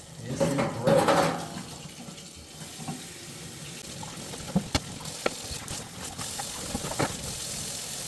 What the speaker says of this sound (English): There's a good enough trickle going through it now that it wouldn't freeze